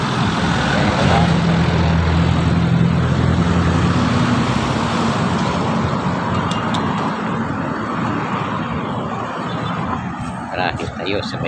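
Steady traffic rumbling across a bridge in Manila, a continuous roadway wash of car and truck engines with a loud, sustained low drone that eases slightly toward the end, with a voice talking over it.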